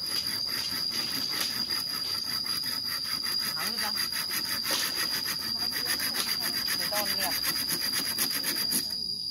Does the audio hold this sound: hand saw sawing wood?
yes